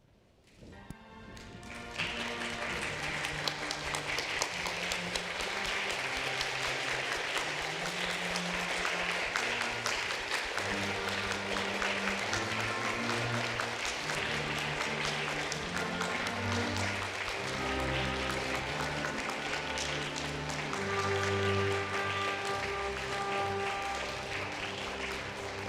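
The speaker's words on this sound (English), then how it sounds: "Please stand up and give them a big round of applause." Audience in an auditorium at a university competition standing and clapping, sustained applause that starts abruptly and runs on steadily, with piano music playing underneath.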